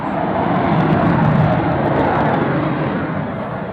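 Aircraft engine starting up at an airshow, a steady broadband roar holding loud and close throughout with a slight fade at the end, no voices over it.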